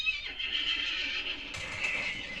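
Horse neighing in the video game Hunt: Showdown, a loud, drawn-out whinny running continuously for about two and a half seconds, with a brighter second burst partway through.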